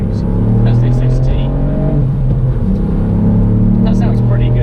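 A 2020 Ford Fiesta ST MK8 with the Performance Pack pulls under acceleration, a steady loud engine drone climbing in pitch, heard close from the cabin, with some speech over the engine.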